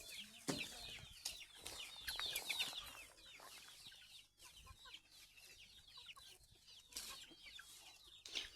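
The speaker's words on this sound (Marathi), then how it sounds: "तर मक्काचा पाला कशा खातात बघा कोंबड्या" Chickens on a goat farm cluck and chatter while pecking at fresh maize leaves, a busy near chorus of short calls with rustling and occasional louder squawks, no talk.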